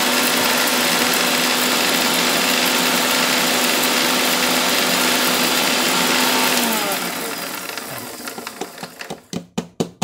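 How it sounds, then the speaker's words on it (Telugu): An electric mixer grinder runs at high speed grinding moong dal chutney, a loud steady whine and roar that winds down near the end, followed by a few sharp knocks and clunks. "మళ్ళీ మిక్సీ వేస్తా."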